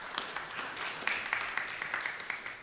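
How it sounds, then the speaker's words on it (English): Church congregation breaks into applause, a steady patter of many hands clapping together for a couple of seconds at moderate distance, without anyone talking. "oh yeah, we can clap"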